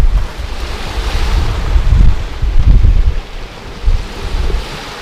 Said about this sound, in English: Wind's picked up a bit. Changed direction ever so slightly.